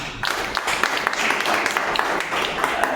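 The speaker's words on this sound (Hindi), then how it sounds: "जोरदार तालियां होनी चाहिए" Dense audience applause breaks out after a short lull and continues steadily for about three seconds, loud and close, with individual claps sharp against the crowd's wash of sound at a gathering honouring a leader.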